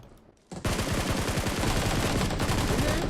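Sustained automatic gunfire from the battle-royale game PUBG Mobile, a loud rapid burst that begins abruptly after a quiet moment and continues steadily to the end, dense and close.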